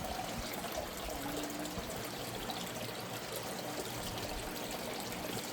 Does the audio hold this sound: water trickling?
yes